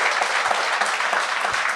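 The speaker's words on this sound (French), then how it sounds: "On va applaudir le show qu'on va avoir ce soir" A podcast show audience claps in a continuous, fairly loud round of applause, dense and sustained throughout.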